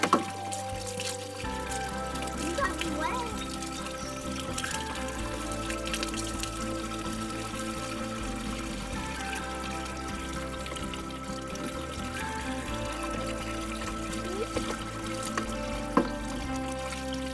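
Water pours and trickles steadily at a children's outdoor water table with double showers, a continuous splashing flow heard close by without speech.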